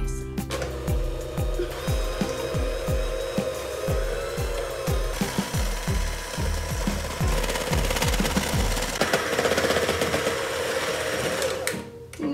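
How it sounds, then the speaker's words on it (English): Electric hand mixer beating milkshake cake batter for confetti cupcakes, a loud close steady motor whir with rapid rhythmic knocking as the beaters hit the bowl, running continuously until it stops near the end. "now we're gonna mix it with our hand mixer to make sure that it's all combined very nicely."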